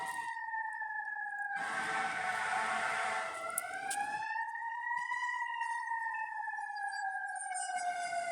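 Fire engine sirens wail from a little distance, their tones sliding up and down continuously, with a burst of rushing traffic noise partway through.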